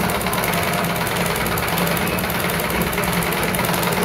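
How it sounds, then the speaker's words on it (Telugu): A sewing machine stitches a round chair pillow cover with matching thread. Its fast, even mechanical whir runs close and loud, with no voices. "నాకైతే మిషన్ మీద కుట్టు బాగా నీట్గా వస్తుందండి"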